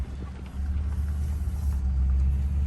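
A truck creeps slowly forward while maneuvering, its engine a steady low rumble that grows slightly louder, heard close with no talk.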